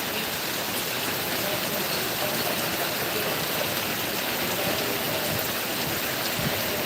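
Heavy rain pours down at Jharbandh, a steady dense hiss of water striking surfaces that holds at an even loudness throughout without easing.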